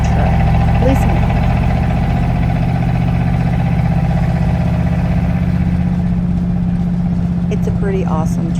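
A 1952 Ram truck engine runs at a steady low idle, a loud, close, continuous rumble with some indistinct voices over it.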